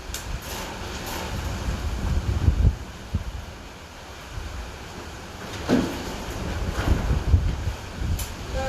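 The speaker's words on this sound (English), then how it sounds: "Super windy today. Hopefully you can hear me okay." Wind buffets the microphone in uneven rumbling gusts, swelling and easing over several seconds, with no clear voice over it.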